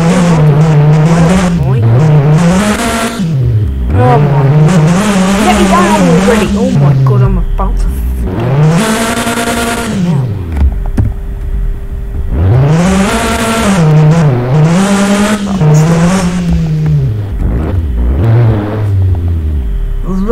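A truck engine in a video game strains uphill, its loud droning note rising and falling across repeated surges, with a player talking over it.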